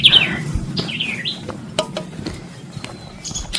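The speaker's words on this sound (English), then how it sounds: "I think you can hear the birds chirping" Small birds chirp and tweet in short bright bursts along a wooded trail lined with Gumbo Limbo trees, scattered calls over a steady low outdoor rumble, with no talking.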